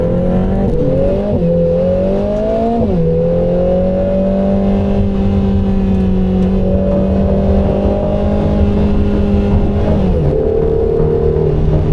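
A Lotus Emira First Edition 2.0 sports car accelerates hard, its loud engine note rising through the gears with several brief dips at the shifts, sustained and close, with no voices.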